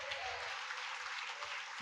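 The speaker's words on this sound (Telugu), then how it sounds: "2 చేతులెత్తి దేహముతో దేవునికి చప్పట్లు కొడుతూ" A church congregation claps hands together during a Sunday worship service, a steady dense wash of clapping throughout, moderately loud and continuous.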